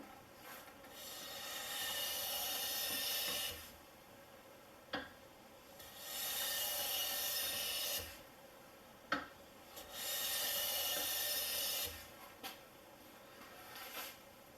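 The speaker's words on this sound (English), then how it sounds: "Now I'm going to give it a run over some walnut and see how thin of a shaving I can get." A restored Stanley No. 5 1/4C hand plane shaves walnut in three long, steady rasping strokes, each roughly three seconds, separated by quiet pauses with light taps as the plane is lifted and reset, close and alone.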